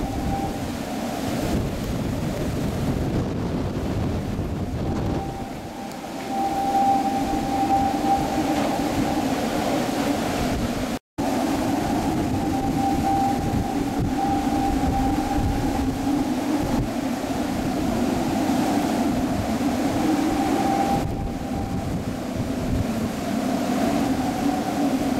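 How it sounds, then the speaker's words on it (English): Hurricane Irene's sustained 85 mph winds roar at landfall in Morehead City, North Carolina. The rumble is loud and constant, with a steady howl running through it and one very brief dropout in the middle. "We got sustained winds at 85 now."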